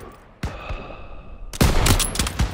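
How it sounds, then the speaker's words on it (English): Gunfire in the World War II shooter Call of Duty WW2, aimed at snipers in a church building: a sharp burst of shots at the start, then a louder, denser volley of rapid firing near the end. "Daniels, hit those snipers!"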